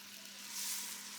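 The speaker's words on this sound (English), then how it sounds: "You see how it's frying" Chopped onion fries in hot oil in a pan for a vegan ragu, giving a soft, steady, close sizzle with no talk over it.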